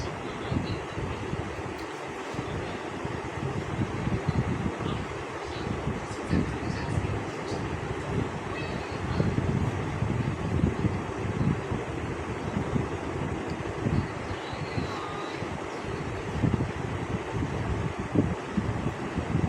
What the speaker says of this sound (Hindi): अब ये बीच की सिलाई लगा रहे हैं नीचे वाले हिस्से।